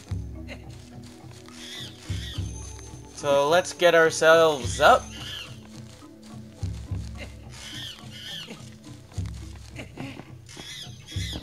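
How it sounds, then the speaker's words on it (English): A monkey squeaks in The Legend of Zelda: Twilight Princess, a brief burst of high chattering cries in the middle, set among soft game music and pattering effects while someone talks over the rest. "And I hear the monkey."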